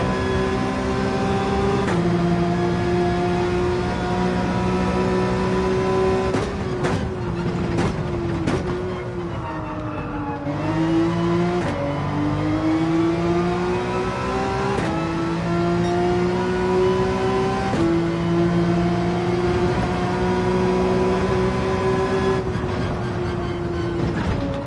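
Race car engine in Gran Turismo 7 on the Dragon Trail track, held at full throttle with a steady high drone that rises and dips through gear changes and a brief lift around the middle, loud and continuous with no talk.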